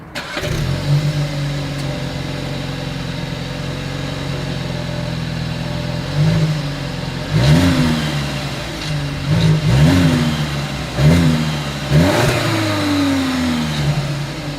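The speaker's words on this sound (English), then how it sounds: "As always, here is that exhaust clip." A 2022 Volkswagen Passat's exhaust idles steadily, then revs in four or five sharp, close blips, each rising quickly and falling back to idle, loud and alone with no talking.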